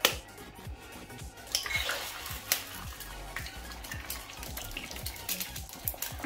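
An egg fries in a tiny pan, a soft steady sizzle broken by scattered clicks and scrapes of a utensil against cookware.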